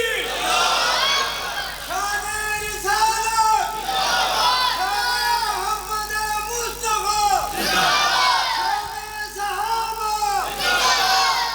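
A large crowd at an annual Seerat-un-Nabi gathering in Jhelum roars a loud collective chant in response to a Nara-e-Takbir call, rising and falling in several sustained waves across the whole stretch.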